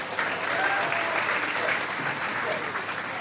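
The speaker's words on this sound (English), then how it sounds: "Please give those students a big round of applause" A school audience applauds students being honoured at a morning assembly, a steady wash of many hands clapping for about three seconds, fairly close and even, with faint voices mixed in.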